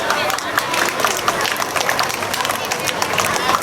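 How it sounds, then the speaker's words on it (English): A school audience at an Independence Day celebration claps in a dense, steady round of applause welcoming a performer dressed as Mahatma Gandhi, the clatter of many hands filling the space with crowd murmur mixed in. "Let's welcome them with your big round of applause."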